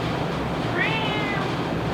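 A cat gives a single short meow at mid-distance, rising and falling over about half a second, against steady low background hum in a garage-like setting.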